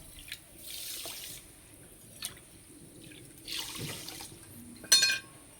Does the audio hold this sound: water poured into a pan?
yes